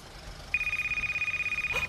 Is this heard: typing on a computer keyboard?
no